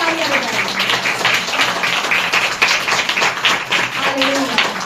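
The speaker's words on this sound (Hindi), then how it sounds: "जोरदार परमेश्वर चाहते हैं कि आप अपने लिए तालियां बजाएं" A congregation at a prayer meeting claps continuously, a moderately loud, even patter of many hands with faint voices mixed underneath.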